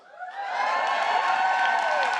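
Crowd at a White House Women's History Month reception bursts into cheering and whoops, rising quickly from quiet to a loud, sustained roar.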